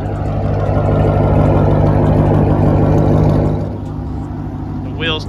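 A 2007 Ford Mustang GT engine runs close by with a loud, steady low rumble that eases off near the end, with a brief voice-like sound at the very end.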